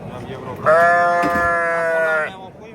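A sheep at a livestock market lets out one long, loud, wavering bleat lasting about a second and a half, close by, with faint background noise around it.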